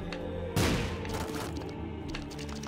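A loud blast bursts out in modded The Binding of Isaac, followed by a rattling burst of smaller explosive crackles that fade over a couple of seconds against steady game music.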